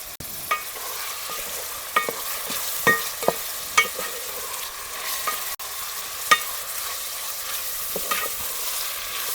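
Onion, tomato and capsicum frying in a pan, a constant close sizzle punctuated by irregular scraping clicks of a spoon stirring, loud and without any talking.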